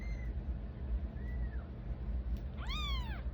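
Kittens give several high, thin meows close by: one short cry, a longer one a moment later, and a louder drawn-out meow near the end, over a low background hum with no talking.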